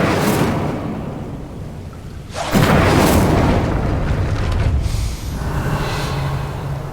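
A fire spell cast in the video game Hogwarts Legacy gives a sudden loud whooshing, booming burst that roars for a couple of seconds, then eases into a softer rushing flame tail over low ambient game sound.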